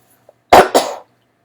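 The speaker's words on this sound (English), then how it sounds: "if you need to cough or sneeze," A single close, loud cough in two quick bursts, alone with near silence around it.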